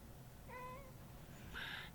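A cat meows twice at close range indoors: a short soft meow followed by a brighter, higher one over faint steady room noise.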